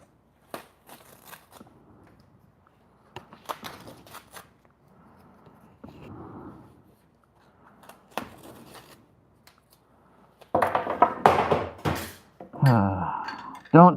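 Eight steak knives being handled and gathered before sharpening, giving a loud burst of metallic clinking and rattling near the end, after quieter scattered taps and handling noises.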